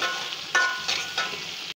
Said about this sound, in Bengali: ভেজে নেব। দুটা শুকনো মরিচ দিয়ে দিলাম, কাঁচামরিচ দিলাম কয়েকটা, পেঁয়াজ রসুন দিয়ে দিলাম